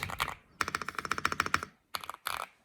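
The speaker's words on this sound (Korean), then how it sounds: "확실히 이것보다는 레이니가 확실히 튀는 소리가 납니다" Fast, crisp keystrokes on a Rainy75 mechanical keyboard, clicking in quick rhythmic runs with brief pauses between bursts, close and clear with no talking.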